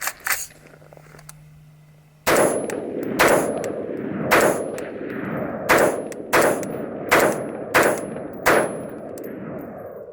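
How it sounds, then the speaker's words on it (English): Suppressed rifle fired into dirt, fitted with a Surefire Socom RC2 suppressor and War Comp muzzle device: nine sharp, evenly spaced shots ring out loud and close after a brief quiet start, each with a short echoing tail. "We'll just shoot in the dirt so you guys can hear what it sounds like with the War Comp on here."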